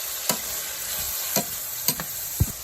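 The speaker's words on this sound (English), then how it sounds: "I'm going to let that cook up for about another 10 minutes" Seafood and pineapple bowl ingredients sizzle steadily in a frying pan, with a few sharp stirring scrapes and knocks of a utensil against the pan breaking through the constant frying hiss.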